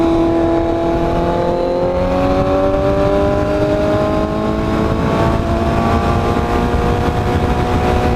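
A Ferrari 488 supercar engine accelerating, its loud steady roar climbing gradually in pitch through the whole stretch, heard up close alongside motorcycles.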